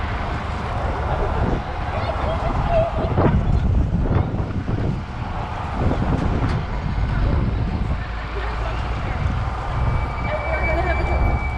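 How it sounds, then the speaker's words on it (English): Wind buffets the microphone in low, rumbling gusts during a bike ride in New York City, with some faint voices mixed in. "Woo, it's windy."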